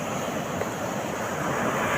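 Sea waves wash onto the shore in a continuous soft rush, mixed with a light breeze and a bit of wind noise.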